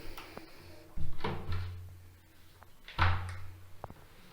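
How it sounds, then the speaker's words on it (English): A repaired wooden door swings shut twice, each close landing as a solid, near thunk about two seconds apart, with small knocks and creaks between in a quiet room. "we can easily close the door now"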